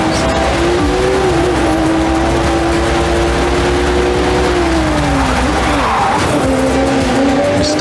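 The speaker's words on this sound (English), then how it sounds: "We're starting off with a nighttime street race challenge." Race cars roar through a nighttime street race in the video game The Crew 2, with a steady loud engine drone, shifting pitch as they accelerate, and brief tire squeals and skids.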